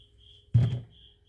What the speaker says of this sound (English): That is an actual cricket, y'all.